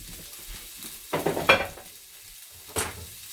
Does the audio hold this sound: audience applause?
no